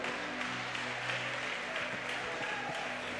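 A church congregation at a Sunday service claps steadily together in praise of Jesus, a continuous wash of many hands at moderate level with faint voices mixed in.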